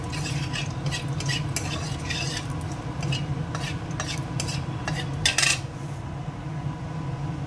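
Cumin seeds and a dried red chili crackle in hot oil, with steady stirring and light scraping of a utensil against the pan, plus a few brief clinks, close and continuous.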